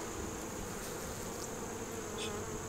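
Honey bees buzz steadily at an open hive during a late-October brood and food check, a dense continuous drone close by with no voices.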